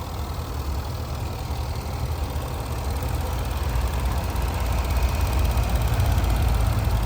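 A 2016 Range Rover Autobiography with a supercharged V8 idles steadily up close, a smooth, even low hum that swells slightly toward the end, with traffic noise nearby.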